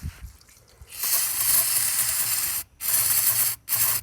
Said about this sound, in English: I'm just going to add gas to this tank.